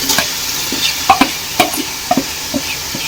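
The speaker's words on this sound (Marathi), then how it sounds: "आता ही आपली ही कोलंबी आहे ना मी याच्यात घालून घेते" Prawns go into a hot pan for prawn pulao, giving a soft sizzle with close scraping and stirring knocks from a spoon at an uneven pace.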